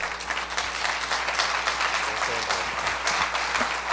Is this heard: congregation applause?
yes